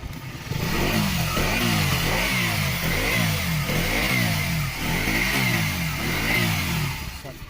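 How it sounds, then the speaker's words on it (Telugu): A KTM Duke motorcycle engine, just back from an oil-leak repair, starts and settles into a steady, loud, close idle with a regular thumping beat and a couple of slight blips, with no talk over it. "బైక్ స్టార్ట్ చేస్తే బీటింగ్ కూడా ఒకసారి వినండి."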